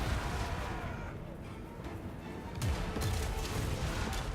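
Cannon fire in the strategy game Total War: Warhammer 2, heavy booming blasts in a battle scene, with a loud impact around the middle and continuous rumbling combat noise throughout.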